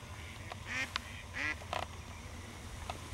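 Wild ducks chatter and quack in short bursts at a hunting spot, several calls over a faint steady background, some clear, some distant.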